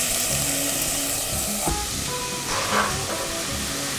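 Carrots and celery sizzling in a pan with onion and garlic, a steady close frying hiss with small pops and one light stir.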